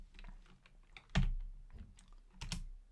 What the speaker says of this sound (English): you can type in somebody else's name